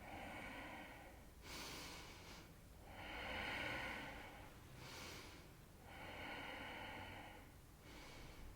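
Slow, deep breaths during an abdominal breathing exercise in a yoga class, with a long audible exhale that swells and fades, alternating with quieter inhales in a steady, unhurried rhythm, close and alone.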